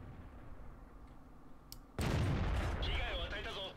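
A single loud tank cannon shot in World of Tanks, fired from the STA-1 at a T-54, booming suddenly after a quiet stretch of low game ambience, then a brief ringing tail.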